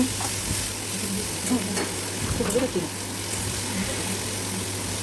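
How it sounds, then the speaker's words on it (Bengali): A semolina upma being stirred in a hot pan, a steady frying sizzle with a brief burst of spatula scraping partway through and a voice faintly present. "এরপর আমরা এটা দু তিন মিনিট ধরে নাড়াচাড়া করে নেব"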